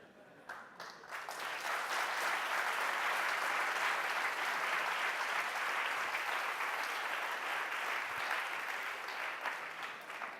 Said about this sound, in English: No need to applause for me